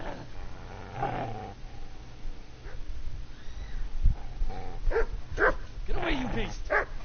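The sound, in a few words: dog barking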